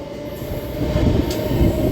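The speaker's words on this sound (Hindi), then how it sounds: "अब अपनी ट्रेन पहुँच चुके कुल्हड़िया रेलवे स्टेशन" A MEMU passenger train arriving at Kulharia railway station in India, its wheels rumbling and grinding loudly and close with a faint high squeal, the rolling noise swelling slightly toward the end.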